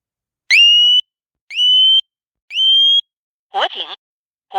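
A Hochiki residential fire alarm gives three loud, identical rising whistle-like sweeps, evenly spaced about a second apart. Its recorded voice announcement follows, in short choppy bursts.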